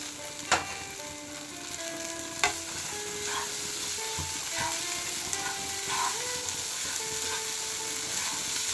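Poha stir-fried with kasuri methi in a hot pan, a soft steady sizzle broken by a few sharp clinks and scrapes of the spatula, close by and fairly quiet, with no talking.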